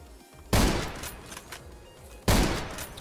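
Two loud, sharp rifle shots from the video game Zero Sievert, nearly two seconds apart, each with a booming blast and a long decaying tail.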